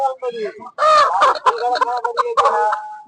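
Desi chickens clucking at a village market, loud close squawks and clucks mixed with people talking nearby.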